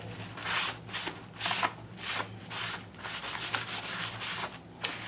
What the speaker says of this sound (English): Dust off all the stuff you just sanded off.